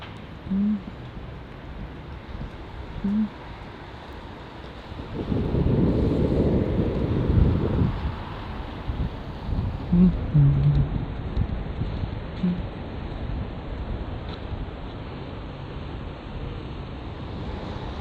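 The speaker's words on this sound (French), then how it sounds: "J'aime comme le vent tape sur les fleurs." Outdoors, wind gusts rush steadily across the microphone among flowers, swelling into a strong blast in the middle before settling back to a steady breezy roar.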